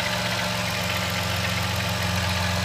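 A 2010 Dodge Grand Caravan with a 3.3 liter V6 runs at a steady idle, a close, even low rumble with a faint rhythmic pulse and no talking.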